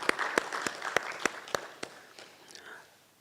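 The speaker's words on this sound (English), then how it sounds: "Let's clap for them." Conference audience at the Kenya School of Law annual event applauds speakers, scattered sharp claps over a soft wash of clapping that thins out and fades within a few seconds.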